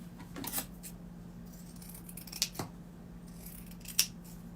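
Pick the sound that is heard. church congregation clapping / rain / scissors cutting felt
scissors cutting felt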